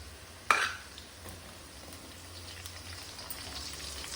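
Crushed garlic sautéing in a pan for okra kara kulambu, one sharp clink at the start, then a low continuous sizzle with faint stirring, near and fairly quiet, no speech.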